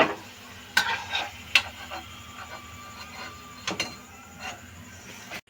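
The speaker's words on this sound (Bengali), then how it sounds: "এইভাবে সব কটা ভেজে নেব" Homemade wheat-flour biscuits fry in hot oil with a low, steady sizzle, broken by several sharp scraping and clattering knocks from stirring close by.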